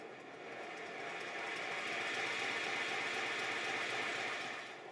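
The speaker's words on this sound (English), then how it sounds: "it's rotating very, very slowly, with a minimum of air pressure. Or, very, very quickly," A single-cylinder Stirling engine running on compressed air gives off a steady mechanical whir with a fine, rapid ticking texture that rises gradually in loudness and then eases off at the end, heard alone without voices.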